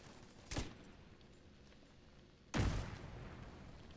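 Two sharp blasts in Tom Clancy's The Division 2, a smaller pop followed two seconds later by a louder booming grenade explosion that rumbles and decays over a quiet background.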